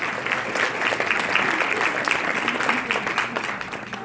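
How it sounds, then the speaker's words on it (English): A room full of people claps for the goalie, a lively, sustained round of applause with crisp individual claps standing out in a fairly close, even crowd sound. "let's give our goalie a round of applause"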